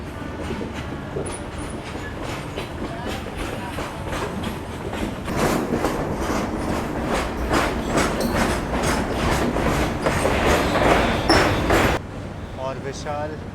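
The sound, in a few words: train running on the rails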